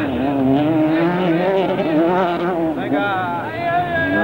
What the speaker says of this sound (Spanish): Ahí viene el espectacular como siempre. Con su Renault Megan del equipo Renault Sport España.